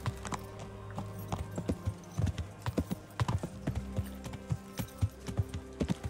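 A horse in the medieval video game Kingdom Come: Deliverance clip-clops at a steady riding pace, with crisp hoofbeats over a low tonal background.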